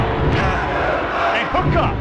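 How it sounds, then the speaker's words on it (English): A wrestling arena crowd in the PlayStation game WWF Attitude roars in a loud, continuous wash of cheering and shouting, with a few brief individual yells rising above it. "Listen to this crowd."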